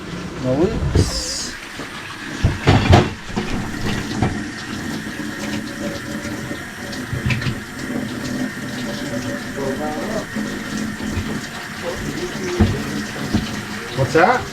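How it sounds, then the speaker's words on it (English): Water runs from a kitchen sink faucet during a clogged-drain repair, a steady broadband rush lasting throughout at moderate level, with a few knocks and clatters and some speech in the background. "now I'm going to turn the water on"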